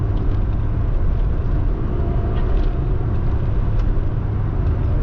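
A car engine fitted with a cheap eBay performance pod air filter, heard from inside as a loud, even drone of engine and road rumble while driving, with no break in the sound.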